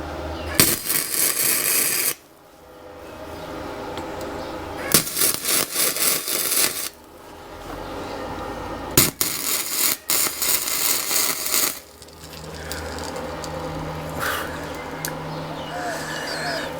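Spot welds being laid on Kawasaki ZZR250 motorcycle clutch parts in a workshop, three loud sustained crackling, buzzing bursts of about two to three seconds each, separated by quieter gaps and followed by softer clatter.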